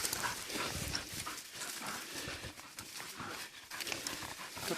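A dog pants in rapid, continuous breaths outdoors during a pig hunt in the Pacific islands, with scuffling and movement noise around it at moderate distance.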